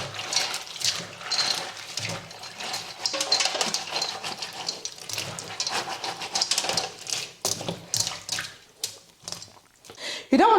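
Water splashes and sloshes steadily in a kitchen sink while beans are washed for a Nigerian breakfast, a close, continuous churning with small irregular surges.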